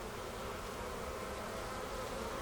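Honey bees buzz in a steady, dense drone at close range while a beehive is opened for inspection, the swarm sound continuous and even throughout with no talk.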